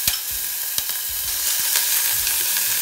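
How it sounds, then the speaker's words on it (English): Ground garlic and ginger hit a preheated pan for miso ramen and sizzle loudly and steadily, with a few sharp crackles and light stirring sounds and no talking. "So the pan has been heated. I'm going to put in first the ground up garlic and ginger."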